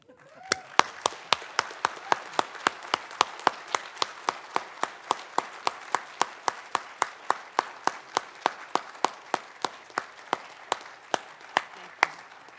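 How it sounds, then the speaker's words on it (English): Audience applause at a symposium, here a steady, rhythmic unison clapping of sharp, evenly spaced claps that holds a regular beat for over twelve seconds with no talking. "One more round of applause"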